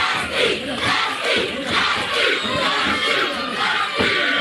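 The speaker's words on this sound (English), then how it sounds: "You can hear the fans." A loud wrestling arena crowd roars and chants in rhythmic swells, the noise filling the space continuously with no single voice standing out.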